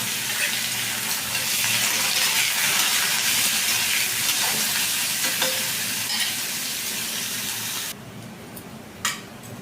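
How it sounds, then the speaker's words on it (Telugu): Dried red chillies, urad dal, mustard seeds and thin carrot pieces frying in oil in a kadai, a steady dense sizzle that runs loud for about eight seconds, then drops away, leaving a quieter pause with a brief clink near the end. "కడాయిలో నూనె పెట్టి ఎండుమిరపకాయలు, మినపప్పు, ఆవాలు సన్నగా క్యారెట్ ముక్కలు కొంచెం 5 నిమిషాలు మగ్గనివ్వాలి"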